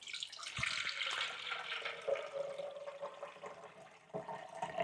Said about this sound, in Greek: ml νερό. Θα βάλω εδώ από την καλατούλα μου να μετρήσω.